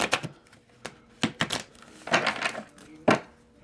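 Tarot cards are cut and shuffled by hand, producing a string of sharp, close paper snaps and riffles in irregular bursts, with no talking.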